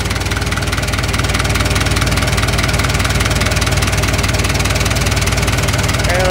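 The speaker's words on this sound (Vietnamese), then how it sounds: "chúng tôi quay cái động 4 máy cho bà con xem nhé" A Japanese Kubota M6950DT four-wheel-drive tractor with a four-cylinder engine runs close by, a loud, steady rumbling drone with an even rapid pulse throughout and no talk.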